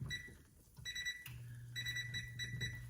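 A kitchen timer alarm goes off while a big pancake cooks, repeating electronic beeps in short bursts, close and clear over a low steady hum of the kitchen.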